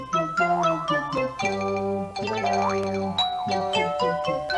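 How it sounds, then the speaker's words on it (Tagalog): A cartoon doorbell rings with bright, bouncy chime tones repeating several times, clear and musical, with no talking over it. "Pero parang may nag-doorbell ah."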